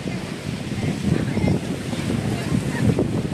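Gentle sea waves wash onto the shore as wind blows across the microphone, a continuous low rumble with mild surges and gusts.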